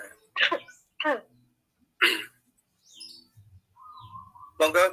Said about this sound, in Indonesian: Ampun agak batuk soalnya.